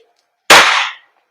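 A WE Glock 17 Gen 5 airsoft gas blowback pistol fires one sharp, loud crack with a short hissing tail, surrounded by silence.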